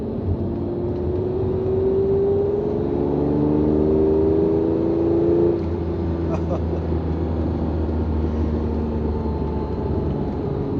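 A Ferrari Testarossa V12 supercar drives along with a continuous engine drone, and its pitch climbs briefly as it accelerates before settling into a steady cruise with road and wind noise throughout.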